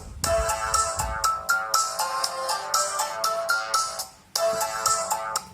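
An UMIDIGI A5 Pro phone rings loudly through its built-in speaker, cycling a tinkling electronic melody of rapid, repeated notes. After a brief pause the pattern starts over, close and clear, with no voices.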